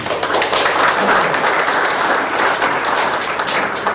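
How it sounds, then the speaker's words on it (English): Loud, dense applause from a crowd, sustained steadily throughout with many hands clapping at once. "Round of applause, please."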